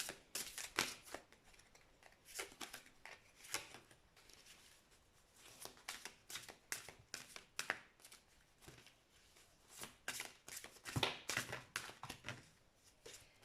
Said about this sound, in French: On va regarder ici une petite coupe au tarot